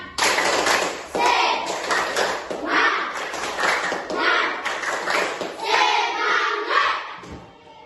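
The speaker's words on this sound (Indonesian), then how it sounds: "Tepuk semangat." Children in a classroom perform a rhythmic spirit clap together, bursts of quick group claps and taps in a patterned beat, with young voices chanting along throughout.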